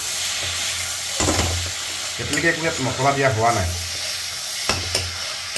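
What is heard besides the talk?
potatoes and tomatoes cooking in a pan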